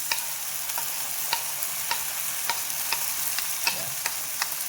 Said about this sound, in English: Now I'm going to add the ground paste.